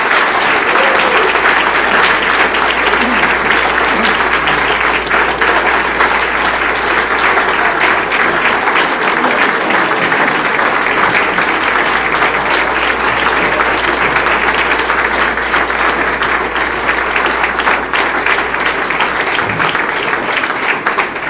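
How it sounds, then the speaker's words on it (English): An audience at a charity golf classic event gives a sustained round of applause, dense clapping from many hands continuing steadily for about twenty seconds at close range. "Let's give a round of applause to them."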